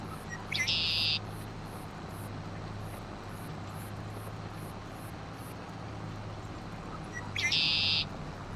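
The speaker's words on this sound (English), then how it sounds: "Boy, that's a loud bird," A loud bird near a farm tractor gives two short, sharp calls several seconds apart, each standing out over a steady low engine drone.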